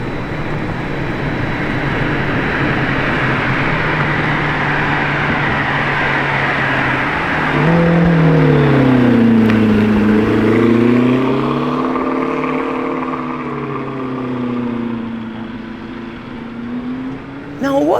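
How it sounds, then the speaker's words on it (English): A Lamborghini Temerario prototype drives past, a steady road rush swelling into a loud engine note that rises and falls in pitch as the car passes close by. "There goes another Temerario."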